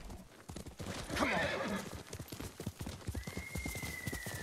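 In the video game Ghost of Tsushima, rapid hoofbeats clatter steadily while a horse lets out a loud whinny partway through, with a faint rising tone near the end.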